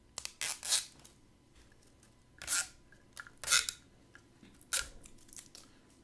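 Tape being peeled and torn off the packaging of an iPod Shuffle (4G), several short, crisp ripping bursts spaced a second or so apart, close and fairly quiet.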